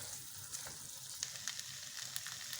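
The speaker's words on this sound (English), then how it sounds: "We'll keep on stirring and mixing them on a high flame, not on low flame." Spices fry and get stirred in oil over a high flame for spiced tehari rice, a steady close sizzle with scattered crackling pops and light scraping, quiet overall with no one talking.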